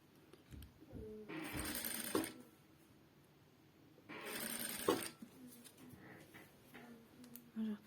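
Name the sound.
sewing machine stitching fabric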